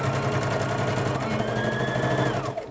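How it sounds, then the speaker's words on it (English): A sewing machine runs steadily at close range, its rapid mechanical stitching rhythm continuous for a couple of seconds before slowing at the end. "we're going to go back to the sewing machine"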